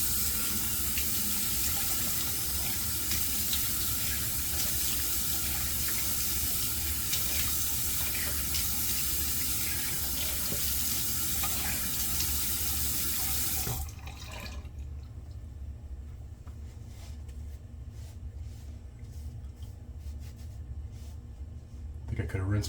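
Steady rush of running tap water while a shaving razor is rinsed at a sink, loud and continuous for about fourteen seconds before cutting off to a quieter room with faint drips.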